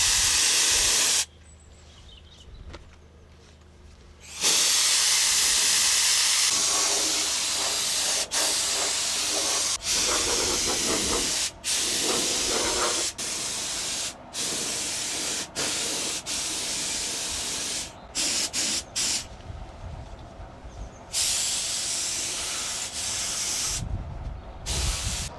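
A spray gun hisses out heavily thinned paint onto Series Land Rover restoration parts in long, loud, steady bursts, broken by short pauses between passes.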